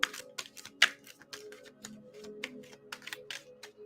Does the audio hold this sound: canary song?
no